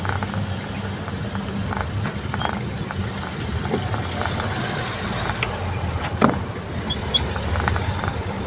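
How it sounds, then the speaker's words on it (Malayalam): Fast cars and trucks rush past on a highway in Maharashtra, a steady loud roar of traffic with a sharp air-brake hiss or hit near the end and no talk. "വണ്ടികൾ വരുന്നത് ഭയങ്കര ഫാസ്റ്റായിട്ട്"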